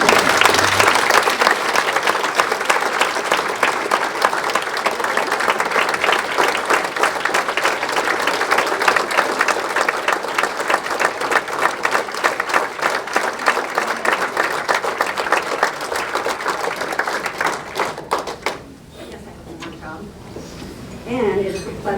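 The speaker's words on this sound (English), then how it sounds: "Ladies and gentlemen, please join in another round of applause." Sustained applause from a large audience at a chamber of commerce annual dinner, dense and loud, with clinking dishes underneath before it thins out near the end.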